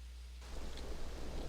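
Steady rain in the Legacy of Laevus setting of a role-playing game, a broad continuous wash of falling water with low rumble, starting faintly and swelling suddenly after a short quiet opening, no voices.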